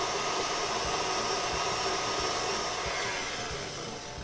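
Electric mixer whipping batter for Hokkaido chiffon cupcakes, a steady loud whirring drone lasting throughout with no talk over it.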